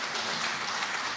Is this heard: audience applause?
yes